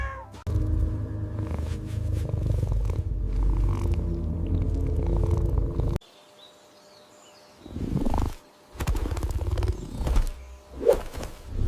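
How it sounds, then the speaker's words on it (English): A domestic cat meows at the end after a stretch of soft purring or rumbling, a couple of short, close vocal calls alone with no talk. "a quick meow to finish"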